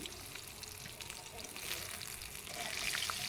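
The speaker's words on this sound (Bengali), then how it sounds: "আমার মাছ ভাজা হয়ে গেছে আর এগুলো এখন উঠিয়ে নিচ্ছি" Rui fish sizzling in hot oil in a pan, a steady close crackle and hiss that continues throughout, with a few faint clinks as the pieces are lifted out.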